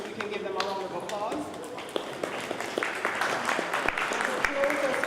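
A lunchtime business audience applauds its panelists, with steady, sustained clapping throughout and sharp individual claps standing out, while a voice talks over the applause.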